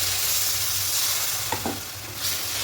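Masala sautéed in oil for an egg curry, frying steadily with a soft broadband sizzle while a spatula scrapes and stirs in a couple of brief strokes near the middle; no talking.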